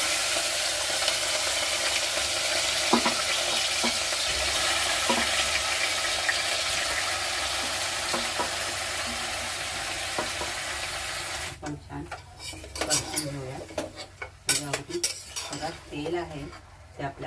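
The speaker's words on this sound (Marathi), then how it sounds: "तेल आपलं तापलेलं आहे आणि आता हे मॅरिनेट केलेलं जे मटण आहे ते आपण ह्याच्यामध्ये घालणार आहोत" Marinated mutton drops into hot oil for an Agri-style mutton dish, setting off a loud, steady sizzle that cuts out abruptly into close stirring and clattering of a spoon against the pan.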